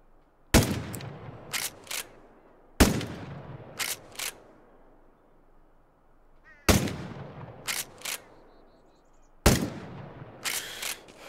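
Gunfire in Miscreated rings out as four sharp, loud volleys, each a heavy shot followed by two quick follow-up shots, with echoing tails fading into quiet between bursts.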